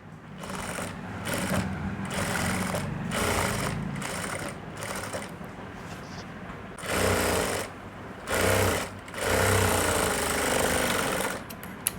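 A sewing machine stitches shoulder seams in fast, rhythmic bursts. The mechanical clatter starts and stops repeatedly, with louder runs near the end, heard close up with no talking.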